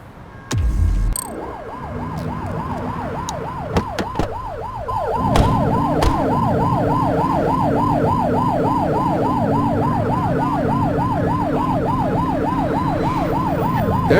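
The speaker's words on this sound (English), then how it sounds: "Turn that siren off." Wailing police car siren from the video game The Precinct, a loud rising-and-falling electronic tone repeating steadily for the whole stretch over a low engine rumble, no talk.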